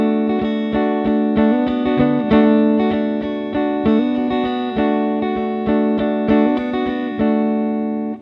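A guitar chord with a sixth substituted for the fifth, strummed again and again in an even pulse, bright and close, letting ring briefly at the close.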